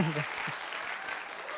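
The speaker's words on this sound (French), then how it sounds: "Et on s'applaudit, c'est une fin de tournage de la production." A film crew applauds together at the wrap of a production shoot, a short dense patter of clapping that starts right after a brief bit of voice and carries on steadily at close range.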